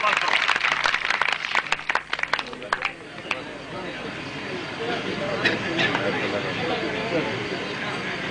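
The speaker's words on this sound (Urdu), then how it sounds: "بھرپور تالیاں نال استقبال کرو" An audience at a Saraiki mushaira (poetry gathering) welcomes a poet with applause: sharp close claps at first, thinning out, then giving way to a low murmur of crowd noise and indistinct voices.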